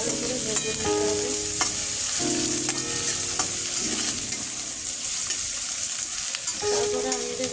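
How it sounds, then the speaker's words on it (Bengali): Onions frying in a pan give a continuous close sizzle, with frequent stirring clatter and background music over it, and no voices. "পেঁয়াজটা একটু ভাজবো ভালো করে। সবগুলো একটু ভালো করে ভেজে নিতে হবে।"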